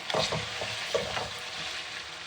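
Chicken fries in a pan for a chicken and capsicum dish, with a close, steady sizzle broken by a few scraping stirs near the start and no talk.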